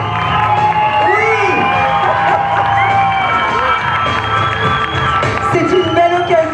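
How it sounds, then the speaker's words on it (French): Theatre audience at a film premiere presentation cheering and applauding loudly, a dense wash of clapping with whoops and shouts over music, continuous throughout. "Je veux entendre vos applaudissements encore plus forts."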